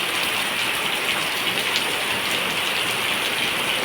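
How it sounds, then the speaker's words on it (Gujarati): Heavy morning rain pours down in a village, a loud, steady hiss that runs unbroken from start to finish with no voices over it. "ફૂલ વરસાદ સવાર સવારમાં આવી ગયો છે"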